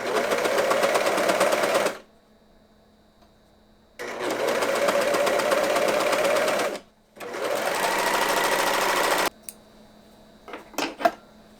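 A sewing machine stitches a rib knit top in two long bursts of rapid, even needle chatter, close and loud, with a short pause between them. Soft clicks and handling noises follow once the machine stops, and nobody talks.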